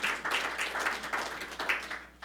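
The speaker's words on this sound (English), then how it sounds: "Round of applause." Clapping from a church congregation at a Unity service, a brief round of uneven, rhythmic claps with distinct bursts rising and falling over about two seconds.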